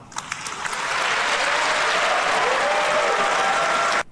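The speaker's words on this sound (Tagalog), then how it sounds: "palakpak" A crowd bursts into loud, dense applause that swells quickly, holds as a steady roar of clapping for several seconds and then stops abruptly.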